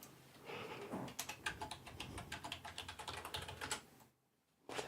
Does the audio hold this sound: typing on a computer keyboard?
yes